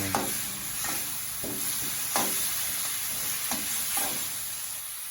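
Chinese kale is stir-fried over high heat in a wok, loud sizzling broken by several rhythmic scraping stirs and tosses, close and without voices.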